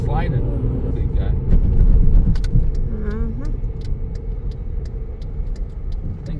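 Truck driving past on a dark road during a power outage after a severe windstorm, a loud rumbling pass that swells and fades, with people talking over it.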